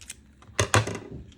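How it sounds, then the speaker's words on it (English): Scissors snip off the short tail of string on a beaded kandi collar, two sharp, close cuts in quick succession against a quiet room. "Now you're going to grab your scissors, sorry, so loud, and cut off this shorter tail."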